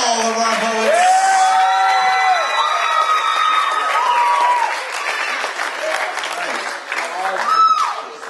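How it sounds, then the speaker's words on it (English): Loud applause for poets at a poetry show, with an enthusiastic crowd cheering, whooping and shouting over sustained clapping that eases slightly toward the end. "One more round of applause for all of our poets."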